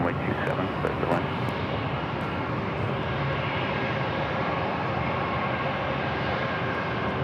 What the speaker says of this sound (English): Our next arrival is Delta Airlines flight 894, coming in from Atlanta, an A321.